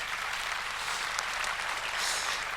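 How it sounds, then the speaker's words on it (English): Steady applause from a conference audience at the close of a talk at an e-commerce summit in Malmö, a dense, even clatter of many hands that holds at a constant level throughout. "So everyone, another round of applause."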